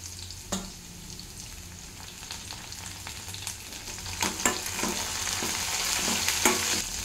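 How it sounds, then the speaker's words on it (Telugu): Onions and curry leaves frying in hot oil for a ridge gourd egg curry, a steady close sizzle with scattered sharp crackles and pops that thicken toward the end. "ఆనియన్స్ కొంచెం ఫ్రై అవ్వాలి ఆయిల్లో."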